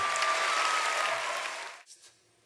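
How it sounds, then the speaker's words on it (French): A television hypnosis-show audience claps loudly for a short burst that cuts off abruptly, leaving a couple of faint stray claps at the end. "On les applaudit très fort, mesdames et messieurs."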